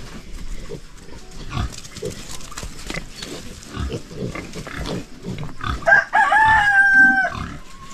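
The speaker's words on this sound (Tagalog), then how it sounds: "Pinakawalan ko muna yung ating mga biik." Piglets let loose on a farm, with snuffling and grunting among close rustling movement, and a rooster crowing loudly partway through near the end.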